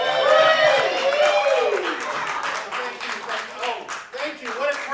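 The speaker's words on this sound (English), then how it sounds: "please put your hands together for Carl Wolfson" Audience applause for comedian Carl Wolfson at a standup comedy show, a dense wash of clapping that fills the clip while a voice talks loudly over it.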